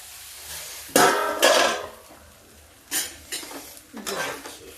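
Dal tipped from one vessel into a cooking pot in a home kitchen, giving several clattering metal knocks and scrapes of pot against pot, close and fairly loud, in two bursts with quieter gaps between.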